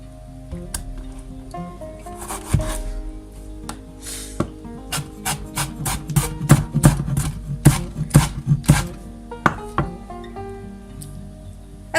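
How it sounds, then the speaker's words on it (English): A knife chops tomatoes on a board in short, steady taps that quicken into a rapid run mid-way, close and fairly crisp, with no talking. "I would finely chop in a sense that, you know, cut it in a row"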